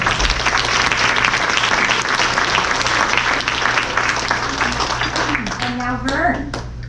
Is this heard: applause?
yes